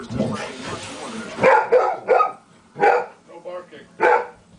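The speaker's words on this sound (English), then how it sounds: "No barking." A dog gives several short, sharp barks and yips close by, spaced irregularly over a few seconds after a stretch of muffled sound.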